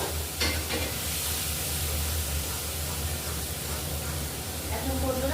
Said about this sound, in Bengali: এখন মশলাটাই ভালো করে ভেজে নেব। তেলটা গরম হয়ে গেছে